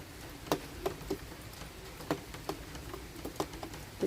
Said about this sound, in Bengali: বৃষ্টি শুরু হয়ে গেছে এখানে